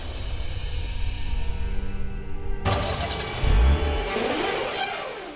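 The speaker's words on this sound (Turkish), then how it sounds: "araba çalıştı." A car engine cranks and catches in a dramatic TV scene, a sudden burst followed by a loud low rumble, partly buried under a swelling orchestral music score.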